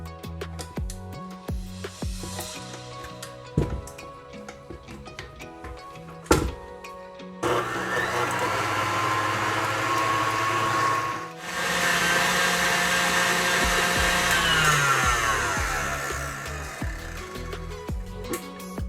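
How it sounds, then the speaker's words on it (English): Egg yolks and sugar whisked until pale for an Indonesian lapis spice layer cake, a loud steady electric mixer whir running continuously after a few clunks and knocks, briefly dipping before resuming. "Now I'm just gonna whisk this until the egg yolks come pale in color."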